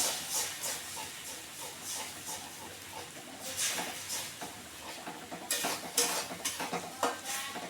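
Eggs fry in a pan with oily fried potatoes, giving a steady close sizzle broken by repeated scraping stirs and louder hissing bursts that grow busier toward the end.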